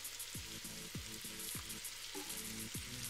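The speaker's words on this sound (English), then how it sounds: "Listen to that sizzle go." Chicken coated in oregano, thyme, garlic and onion seasonings sizzles and fries in a hot pan, a close, continuous crackling hiss with no talking.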